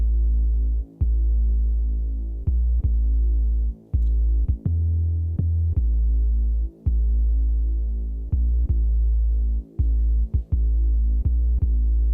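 A deep, heavy, wide gliding synth bass in a hip-hop track drones continuously with a throbbing low hum, broken by brief gaps and clicks as notes change and glide in pitch.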